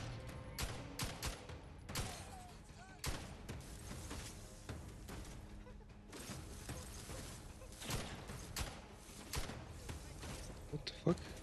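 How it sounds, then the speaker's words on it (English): Gunfire in the video game The Outer Worlds 2 cracks repeatedly at the player in irregular sharp bursts, fairly distant and mixed with clattering impacts, while someone talks over it. "Who the fuck is shooting us?"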